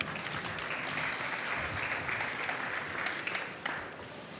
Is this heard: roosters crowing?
no